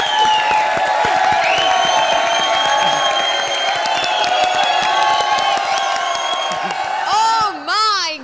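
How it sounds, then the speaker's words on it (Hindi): A studio audience at a comedy show cheers, whoops and applauds loudly for several seconds, with shouting voices mixed into the crowd noise and a brief dip before a final burst. "हमारी वजह से तालियां बजाओ"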